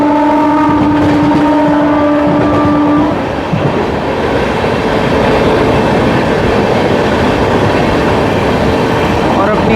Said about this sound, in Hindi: अपनी अमृत भारत भी ताबड़तोड़ एक्सीलरेशन पे एक्सीलरेशन किए जा रही है